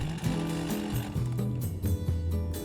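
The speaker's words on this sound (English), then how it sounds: "The audio cue of it being a loud chainsaw a foot in front of your face" A loud chainsaw enemy in a sleep paralysis horror game, heard close up as a harsh, buzzing motor whose pitch rises and falls as it revs, continuous throughout.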